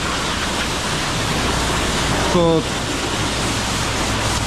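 A coin-operated pressure washer at a car wash sprays in a loud, steady roaring hiss that holds throughout, close by, while someone briefly speaks over it.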